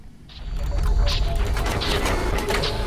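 Samsung Galaxy S III Mini box being opened: a close run of dry scraping and clicking cardboard sounds with a few sharper creaks, with no talk.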